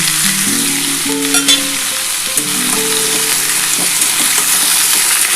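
Tomato and green chili hit hot oil for a potato curry seasoned with asafoetida, giving a loud, steady sizzle and crackle with faint stirring scrapes throughout, no voices.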